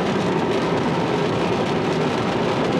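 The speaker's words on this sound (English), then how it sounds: "All the rain getting pushed up to the top of the window" Rain streams across a car window while driving on a central Ohio loop, a loud, steady broadband wash with no break or talk.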